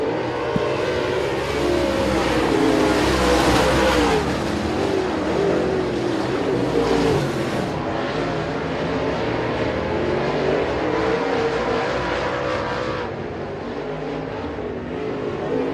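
American Racer Modified Series race cars race at Sabine Speedway. A loud, continuous roar of several engines revs and passes, swelling and fading as the pack moves around the track, with no talk over it.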